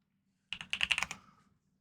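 Clear burst of keyboard typing, about a dozen quick keystrokes clattering close and distinct for under a second before stopping, with faint low room hum around it and no voices.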